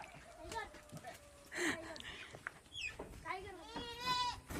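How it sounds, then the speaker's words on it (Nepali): Several goats bleat close by in short wavering cries, some overlapping, while people talk in the background. "बाख्राको खोर, बाख्रा बाख्रा, यो पनि बाख्रा।"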